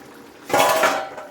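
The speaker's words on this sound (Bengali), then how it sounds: "আমি এবার ঢাকনাটা খুলে দিচ্ছি" A lid is lifted off a cooking pot of simmering koi fish tel jhal, giving a single brief metallic clank and scrape, heard close and alone against a quiet background.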